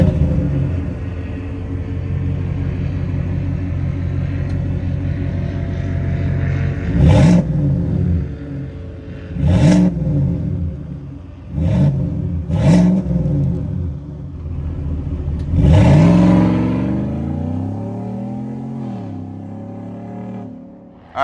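A 2024 Chevy Silverado ZR2's 6.2-liter V8 with active exhaust idles with a deep, burbling rumble, then barks through four sharp revs, each rising and falling quickly, the last one longer and held higher.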